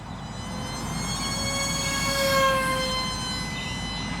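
A small Volantex F16 Falcon RC jet with an electric ducted fan flies at just over half throttle, producing a steady high-pitched whine that swells slightly as it passes and then eases, heard alone and from a moderate distance.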